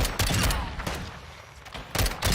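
Gunfire in Call of Duty Modern Warfare 2, a few loud close bursts of shots separated by short gaps, the clusters hitting hard at the start, middle and end.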